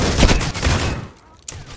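Gunfire in the mobile shooter Critical Ops, a loud rapid burst of shots over about a second followed by one more sharp report, with a faint voice underneath.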